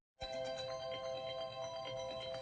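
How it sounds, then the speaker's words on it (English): A phone ringtone plays steadily and fairly loud for about two seconds, a sustained electronic melody with no talking over it. "My phone rung."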